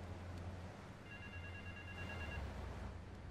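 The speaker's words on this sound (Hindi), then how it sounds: "किसका फोन बज रहा है भाई?" Mobile phone ringing in the video game Grand Theft Auto III Definitive Edition, a faint electronic ring tone for a couple of seconds over a steady background hum.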